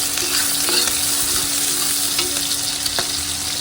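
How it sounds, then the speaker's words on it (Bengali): Shrimp and vegetables fry in a pan with onion, giving a steady close sizzle broken by a few sharp spatula scrapes and clicks, with no voices. "এখন আমি সবজিটা ভেজে ভেজে ভাজি করে নেব"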